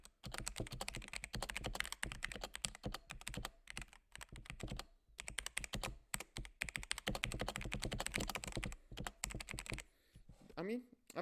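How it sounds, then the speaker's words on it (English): A cheap thirty-dollar keyboard modded with household items clatters under fast, close typing, with busy clusters of keystrokes and a couple of short pauses between bursts. "the space bar definitely doesn't sound as good, but the backspace, look"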